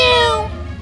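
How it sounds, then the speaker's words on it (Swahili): A house cat meows twice in quick succession, a close, loud, falling cry that trails into a softer second call over a low steady hum. "Paka akalia milio miwili."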